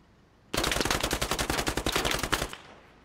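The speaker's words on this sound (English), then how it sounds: "Breaking the silence by shooting through the fence over there." A rapid burst of automatic gunfire in the Squad military video game, shooting through a fence, rattles loudly and up close for about two seconds. Short silences come before and after.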